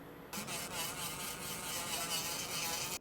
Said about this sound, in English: this is the nail drill that I use